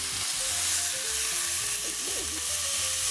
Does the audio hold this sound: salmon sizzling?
yes